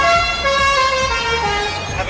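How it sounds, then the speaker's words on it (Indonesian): An Indonesian telolet bus horn plays a loud, continuous melodic run of sliding, stepping tones for about two seconds, with no pause between notes. "klakson telolet yang saat ini sedang menjadi bahan perbincangan"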